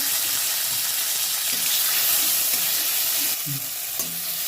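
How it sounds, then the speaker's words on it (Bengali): Chopped tomato fries in a pan with dried and green chillies and bay leaf, sending up a loud, continuous sizzle with occasional stirring knocks, close up and without talk. "টমেটো কুচিটা দিয়ে দেবো এটাকে একটু ভেজে নেবো"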